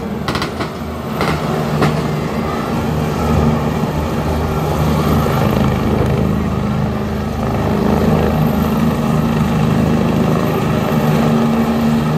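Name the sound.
police helicopter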